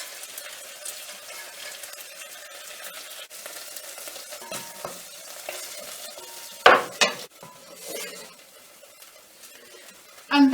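Rabbit portions fry softly in a pan. A steady low sizzle runs under scattered scrapes, and around the middle come a sharp clatter of utensils and a burst of louder sizzling.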